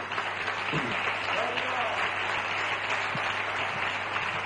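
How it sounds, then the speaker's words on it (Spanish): Church congregation applauding, a steady wash of clapping lasting several seconds at moderate level, with some voices audible among the claps. "Denle un aplauso a Dios por eso."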